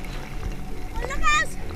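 Strong sea waves slapping and splashing against a small boat out at sea, a rough churning wash under wind, with a voice and other people calling out over it.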